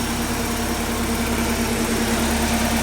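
Porsche 944 engine on a MicroSquirt setup idling with its cooling fans running and balance shafts removed, giving a steady, even hum with a constant fan whoosh, continuous and close.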